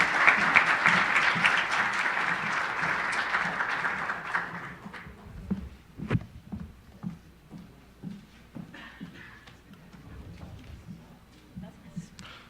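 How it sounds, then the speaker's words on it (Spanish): An audience at an open government seminar in Mexico City claps loudly for a few seconds, then the applause fades into scattered claps, murmurs and a few voices. "Y un fuerte aplauso al maestro Juan Carlos Contreras Licona"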